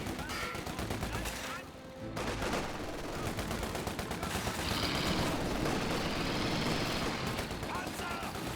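Sustained machine-gun support fire in the World War II strategy game Company of Heroes 2, a dense rattle of bursts layered with other battlefield gunfire, with a brief lull early on before the shooting picks back up and continues steadily.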